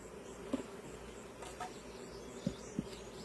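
Honeybees buzz around a beehive entrance, a faint steady hum with a few brief close passes and soft knocks, outdoors and without talk.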